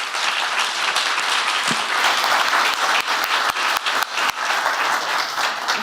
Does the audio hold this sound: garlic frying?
no